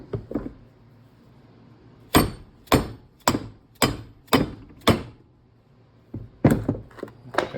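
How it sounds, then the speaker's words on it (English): A dead blow hammer pounds a spindle bearing into an Ariens zero turn mower spindle: a few light taps, then a run of evenly spaced heavy close thuds, a pause, and more blows. "we'll go ahead and take a dead blow hammer and pound that down"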